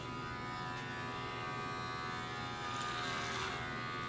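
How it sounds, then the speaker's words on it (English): Electric hair clippers buzz steadily over a comb while taking bulk off a taper haircut, a continuous close, fairly quiet whir with no talking. "majority of my haircut is going to be done with clipper over comb"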